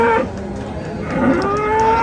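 A bull moos with a long, loud, rising call across most of a two-second stretch, a beef bull at the Chandimura cattle market in Cumilla, Bangladesh, with the market's din behind it.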